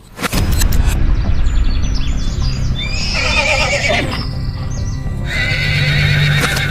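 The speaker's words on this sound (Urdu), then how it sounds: "اور وہ گھوڑا پوری رفتار سے موت کی طرف بھاگ پڑا" A horse whinnies loudly and repeatedly while hooves clip-clop in a fast galloping rhythm, close and dramatic, with birdlike chirps mixed in over the busy, continuous sound.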